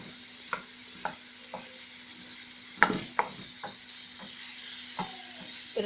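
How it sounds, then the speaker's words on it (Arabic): Onions and garlic stirred in a frying pan for liver, a soft steady sizzle under repeated scraping strokes of the spoon at a slow irregular rhythm, close and fairly quiet. "نقلب البصل مع الثوم كده في النص لحد ما البصل بتاعنا يدبل شويه"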